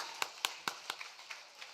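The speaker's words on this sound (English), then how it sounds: "Can we give another round of applause for Juan?" Sparse, faint handclaps ring out for a finalist at the MECC championship finals, about seven separate claps at an even pace, quiet and fading toward the end.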